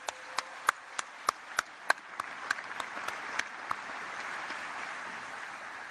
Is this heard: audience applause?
yes